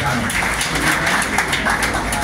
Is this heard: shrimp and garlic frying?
no